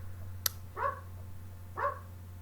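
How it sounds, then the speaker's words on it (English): At home, a dog gives two short, muffled barks about a second apart, heard from another room against a low steady hum, with a sharp click just before. "my dog's barking"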